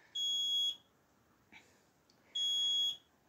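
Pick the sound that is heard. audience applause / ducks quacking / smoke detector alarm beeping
smoke detector alarm beeping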